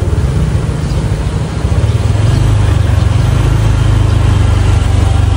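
A motorcycle engine idles close by, a steady low rumbling hum that holds evenly for several seconds with no voices over it.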